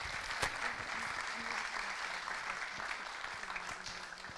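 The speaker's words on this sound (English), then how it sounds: "And you deserve big applause, please, for yourself." Sustained applause from a conference audience at a global forum on direct democracy, steady dense clapping filling the hall throughout.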